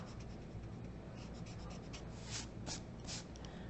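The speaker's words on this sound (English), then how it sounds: "I can erase it." Pencil lines rubbed out with an eraser on a perspective drawing of letters and buildings, quiet close scrubbing strokes that grow into a few firmer rubs near the end.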